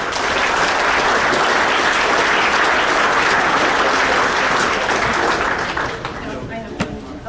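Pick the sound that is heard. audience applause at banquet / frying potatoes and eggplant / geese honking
audience applause at banquet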